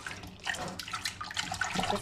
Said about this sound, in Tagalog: Kailangan nating mahugasan to